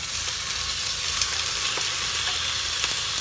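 Chicken frying in oil for chicken and eggplant in tomato sauce: a dense, loud, continuous sizzle with faint crackles, steady throughout and without voices.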